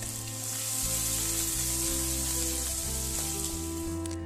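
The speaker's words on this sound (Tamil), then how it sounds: "அப்புறம் 2 காஞ்ச மிளகாய் கிள்ளி போடணும். கொஞ்சம் வதக்கி விடணும்." Curry leaves and dried red chillies sauté in hot oil with a continuous, even sizzle and crackle, with soft background music underneath.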